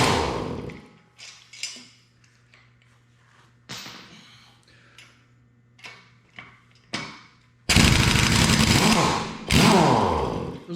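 A 1-inch impact gun breaks loose the large oil pan bolts on an LMM Duramax in a shop, with loud, dense hammering bursts near the end that follow a series of sharp isolated knocks and clanks.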